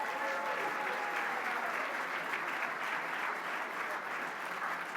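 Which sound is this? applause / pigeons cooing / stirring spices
applause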